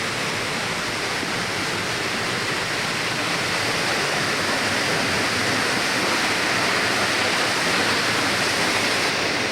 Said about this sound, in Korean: 폭포물이 얼굴을 때린다.